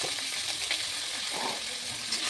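Ginger paste, green chilli and tomato frying with potatoes in a pan, a steady, close hiss of frying throughout with faint stirring underneath.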